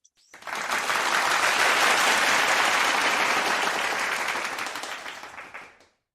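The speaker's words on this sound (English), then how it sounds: "Let us give a round of applause for the Honorable Ibrahim Shahid Zaki." Sustained audience applause at an international leadership conference greeting an honorable guest speaker, rising quickly to a full, dense wash of clapping that holds steady for several seconds before tapering off and stopping.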